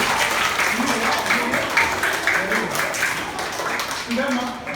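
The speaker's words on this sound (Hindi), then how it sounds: "तो ताली बजाओ।" Schoolchildren in a Class 4 classroom at Kendriya Vidyalaya, Azamgarh, clap together in a steady, fairly loud burst of applause lasting several seconds, with voices mixed in.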